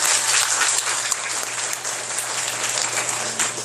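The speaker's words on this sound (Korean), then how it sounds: "오늘 2강 해주신 영식이 오빠에게 큰 박수 제가 보냅니다." A church summer gathering audience gives a speaker a loud, dense round of applause, sustained and even throughout with no talking.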